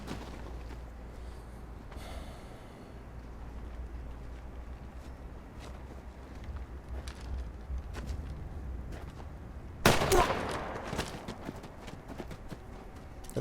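Matchlock musket gunfire from the Kingdom TV series: a sudden loud crack followed by a rattle of further shots, breaking in after a long stretch of quiet clopping hooves and low rumble.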